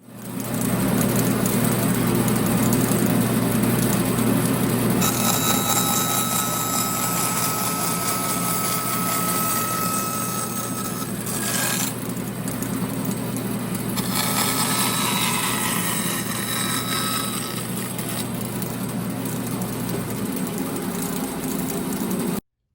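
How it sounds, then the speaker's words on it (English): A running bandsaw roars steadily as its blade cuts partway into wood and then backs out, a loud continuous machine drone with shifting tone as the cut begins and eases off. "I was able to go in and back out while that blade was still moving"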